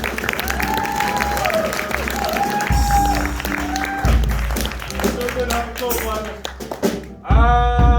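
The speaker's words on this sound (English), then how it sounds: "Round of applause again." Clapping and cheering from a crowd at an improv comedy show fill the room, swelling in bursts while a voice speaks over it and a fresh round of applause starts near the end.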